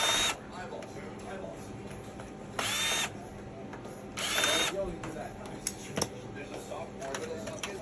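A small power screwdriver briefly whirs in three separate bursts, removing screws from the circuit board of a 500 GB hard drive inside a Sky box, with quiet handling noises between them.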